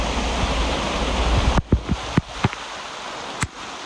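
A roadside waterfall near Neelkanth roars as a loud, steady rush of water, which then drops away abruptly and gives way to a few sharp knocks and thumps.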